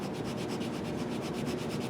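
Sandpaper rubs back and forth over a saxophone neck cork, a close, steady rasping scrape with a quick, regular stroke rhythm.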